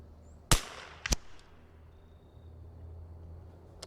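A .22 LR precision rifle shot fired at a 150-yard target, a sharp crack followed by a second quick report, then quiet outdoor ambience with light wind.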